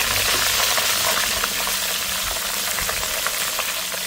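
Mustard seeds, whole cumin, carom seeds and curry leaves drop into hot oil for an eggplant olo, giving a close, steady sizzle with fine crackling and pops and no talking.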